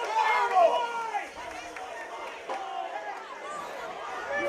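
Trojan fans at a Girard vs. Iola high school football game voice their displeasure after a personal foul penalty, a dense wash of crowd voices and shouts swelling loudly at first, then settling into steady grumbling.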